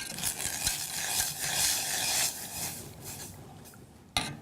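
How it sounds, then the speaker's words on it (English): Quick oats being stirred into a pot, a steady scraping, rubbing swish with light utensil contact, close and continuous, ending in a sharp clink near the end. "So we're going to stir in some quick oats as well."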